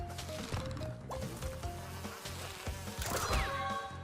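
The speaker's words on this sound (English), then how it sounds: "You can spin the single bees, but you can also get stung by them." Bees buzz around the player in Crash Bandicoot N. Sane Trilogy, a busy insect drone mixed with game sound effects and impacts, steady and fairly loud throughout.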